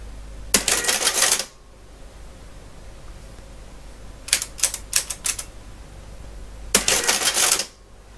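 An Addo mechanical calculator with a badly worn ribbon runs through its printing cycle: three loud bursts of clattering, whirring mechanism, a long run, a quick series of short clicks, then another long run, with no voices.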